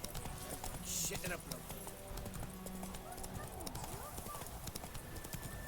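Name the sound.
horse Roach trotting, from video game The Witcher 3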